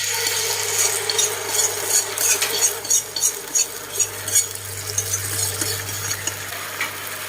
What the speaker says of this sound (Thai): ซอสที่เราทำไว้แล้วเนาะเราก็มา อุ่นใหม่เพราะมันเย็นเนาะค่ะเนาะ